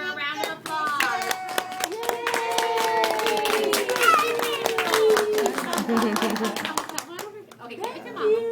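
At a pre-K award ceremony, a small audience claps warmly for a young student, the scattered hand claps running several seconds under chatter, children's voices and soft laughter.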